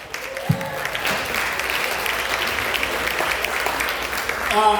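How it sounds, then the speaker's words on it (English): Audience applause at the Revelry 2022 show with Sheist Bubz, a steady wash of clapping that holds for several seconds and swells near the end, with some voices mixed in. "let's give him one more round of applause"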